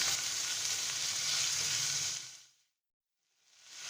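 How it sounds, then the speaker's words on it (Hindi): Chicken pieces frying in a pan for a pizza topping, with a loud, dense sizzle for about two seconds that cuts to silence and then starts to return near the end. "अब मैं ये चिकन शामिल कर दूँगी और चिकन को 2 से 3 मिनट हम पका लेंगे"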